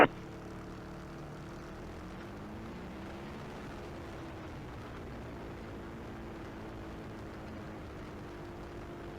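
A Sherwood Kub light propeller aircraft lines up on a grass runway for departure, its engine a faint, steady drone that rises slightly in pitch and holds, with no talking.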